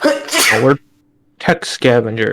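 A single sharp sneeze bursts out between stretches of close indoor conversation, with people talking before and after it.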